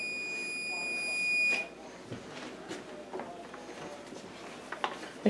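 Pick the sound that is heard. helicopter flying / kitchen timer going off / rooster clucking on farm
kitchen timer going off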